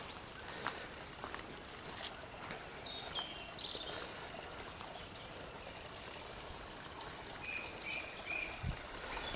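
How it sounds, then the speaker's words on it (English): Faint bird calls and chirps sound over a steady wash of a flowing stream outdoors in a wood on a sunny day. "Birds are happy with the sun shining."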